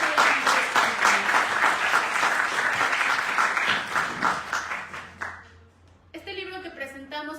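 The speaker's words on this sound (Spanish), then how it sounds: "Les voy a pedir nuevamente un gran aplauso para nuestro autor" Audience applauding the author at a UNAM book presentation, a broad, steady crowd clapping that thins out after about five seconds, followed by a speaking voice near the end.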